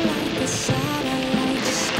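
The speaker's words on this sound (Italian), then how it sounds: "Piove proprio da matti, piove tantissimo, fortissimo" Heavy downpour in a town, a thick continuous roar of rain on surfaces with steady, even loudness throughout.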